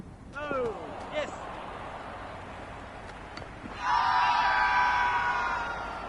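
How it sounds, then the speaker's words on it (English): Crowd in a cricket video game grows raucous, with scattered yells and whoops early on, then a loud, sustained wave of cheering swells up in the second half and holds. "The crowd are really getting quite raucous."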